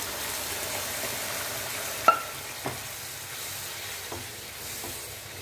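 Lentil kootu goes into a pan of fried onion tempering, giving a soft steady sizzle and frying hiss with a few sharp clinks and stirring scrapes, close and quiet.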